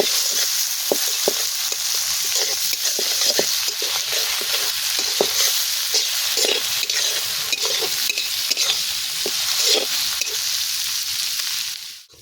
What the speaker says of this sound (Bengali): পেঁয়াজগুলোকে লাল লাল করে ভাজতে হয়